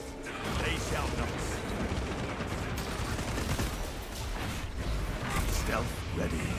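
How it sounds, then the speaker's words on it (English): Dense, continuous gunfire and explosive bursts from frag grenades in the video game Space Marine, loud and unbroken throughout, with a voice speaking over the combat. "Launching frag grenades."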